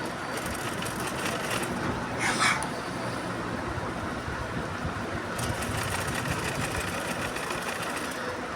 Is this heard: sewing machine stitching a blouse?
yes